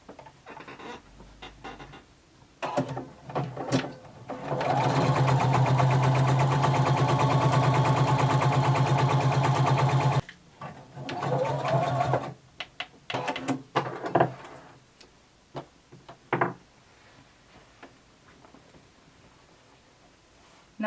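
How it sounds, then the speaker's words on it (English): A sewing machine stitching a jumpsuit seam runs in a steady mid-loud whir for about five seconds, framed by shorter bursts of stitching and handling noises before and after. "You're going to sew up to the dot and you're going to stop."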